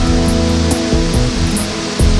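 A large natural waterfall in Costa Rica roars as a steady, loud, continuous rush of falling water, with faint tonal sounds sustained beneath it throughout.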